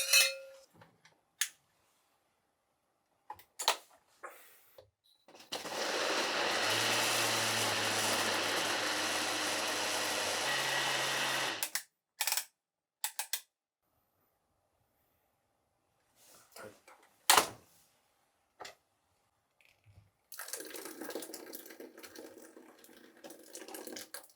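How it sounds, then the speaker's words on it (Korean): A blender grinds kimchi seasoning vegetables with kelp stock, a steady roaring whir of about six seconds, then a second, quieter run begins later amid light kitchen clatter. "손질해 두었던 양념용 채소들과 다시마 육수를 블렌더에 함께 넣고 갈아줍니다."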